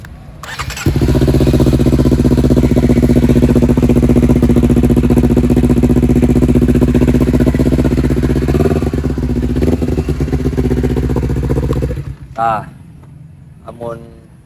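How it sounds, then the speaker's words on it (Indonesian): A motorcycle with a loud, rumbling exhaust starts up and revs hard for several seconds before cutting off, and then a voice speaks briefly. "Spek motor gerung teh kumaha sih?"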